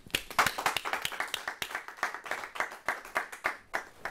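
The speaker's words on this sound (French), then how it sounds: "On applaudit pour lui." Audience clapping at a women's gathering, a fast rhythmic patter of distinct hand claps close by, rising and falling in quick bursts with no talk over it.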